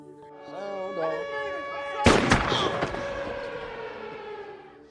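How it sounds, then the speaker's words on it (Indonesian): A prison warning alarm sounds during a riot, a wailing siren tone rising and falling over the first two seconds before a loud burst of gunfire-like crashes, then a sustained blaring alarm and rumble continuing to the end. "ketika alarm peringatan berbunyi"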